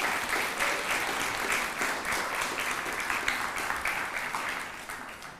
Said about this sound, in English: So big round of applause for the Brockloffs.